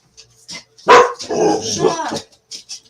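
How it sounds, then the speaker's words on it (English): Dogs bark close by in one loud, sustained burst of overlapping barks with quieter yips before and after it. "Them poor dogs. They just get wound up."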